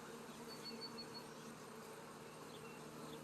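Honeybees buzz steadily in an open hive of young bees and honey, a dense continuous hum with faint higher whines drifting over it, close and fairly quiet.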